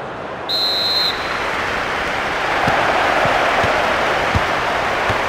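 A referee's whistle in the FIFA 13 football video game on PSP gives one short, sharp blast, followed by steady stadium crowd noise.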